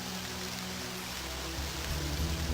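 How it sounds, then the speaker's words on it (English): Steady hiss of rain falling outdoors in a video game, a dense, even patter throughout with a low rumble underneath and no voices. "Oh, it is raining."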